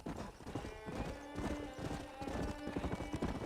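Horse hooves gallop in Red Dead Redemption Remastered with a steady, rapid clip-clop at moderate distance, with a brief whinny and a faint voice.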